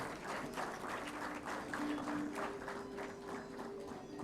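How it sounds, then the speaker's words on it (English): Audience applause at an Engineer's Day college function, an even wash of clapping heard at moderate distance, with a steady tone humming faintly underneath. "May we once again have a huge round of applause."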